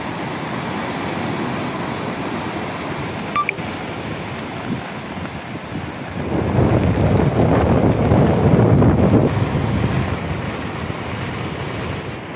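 Rough sea waves and wind on the Karwar coast make a continuous roaring wash that swells louder in the second half, with gusts buffeting the microphone.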